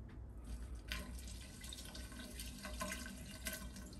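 Water poured down a kitchen drain after coffee grounds trickles and splashes faintly, a soft uneven flow with small drips, close by and quiet.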